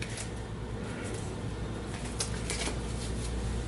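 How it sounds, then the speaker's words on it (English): A deck of game cards gets a quick shuffle, a soft, continuous papery riffle with a few brighter flicks near the end, heard alone against a low steady hum. "I'll go ahead and give her deck a quick shuffle."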